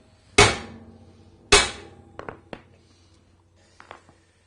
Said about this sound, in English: I think this is quite a hefty piece of exhaust pipe, but we'll give it a good whack.